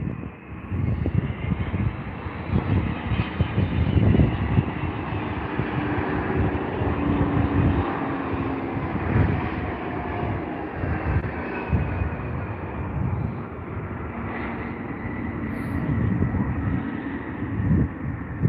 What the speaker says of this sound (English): DHL coming on in the A300